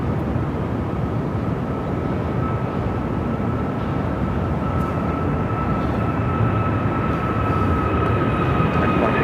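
An American Airlines regional jet rolling for takeoff on runway 7 left at Phoenix airport, a loud, steady roar of jet engines with a sustained whine above it, constant and without any voices.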